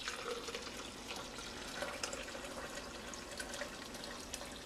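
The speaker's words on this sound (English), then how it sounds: "I'm going to take the French press and pour it into my blender." Brewed coffee poured from a French press into a blender, a soft continuous splashing trickle of liquid with faint gurgles, heard alone and fairly quiet.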